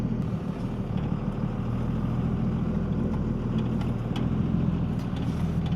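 A truck running a 150HP tune on level 2 drives along with a steady, loud, low engine drone and road rumble, continuous and close throughout, with no voices.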